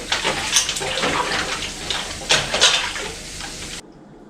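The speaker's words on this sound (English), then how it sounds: "I'm going to run the cold water over it." Cold tap water pours over cauliflower in a sink, a steady close splashing rush with a few clinks, then cuts off abruptly near the end.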